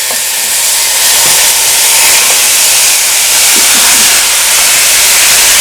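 Pork for Jamaican stew sears in hot extra virgin olive oil in a pot, producing a loud, continuous, close-up sizzling hiss with no pauses and no voices.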